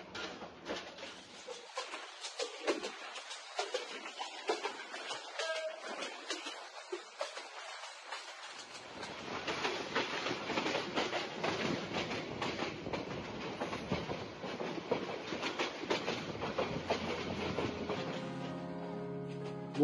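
Tista Express passenger coach rolling on rails, a rhythmic clickety-clack with rattling and rumbling that grows louder and denser about halfway through, heard close from the coach with no talking.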